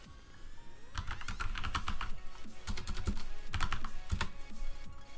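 Rapid typing on a computer keyboard, bursts of close, crisp key clicks with short pauses between runs, no voices.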